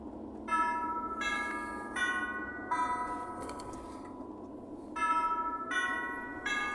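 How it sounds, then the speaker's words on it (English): A Bible app sounds a notification chime made of soft, bell-like ringing tones that repeat in evenly spaced pulses about every second, fairly faint over a low background hiss, with no speech. "And the Bible app chimes."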